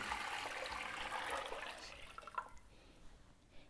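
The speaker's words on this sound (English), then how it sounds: "We'll pour the vegetable broth" Vegetable broth pours steadily into a pot holding onions and kabocha squash, a close liquid splashing that thins to a few faint drips and trickles near the end.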